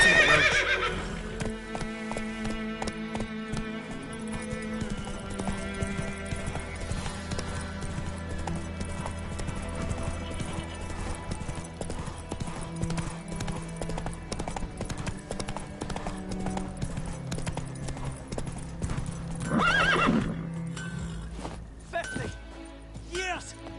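Roach the horse in a video game, hooves clip-clopping in a rhythmic gallop with a loud neigh near the start, over game music and a voice.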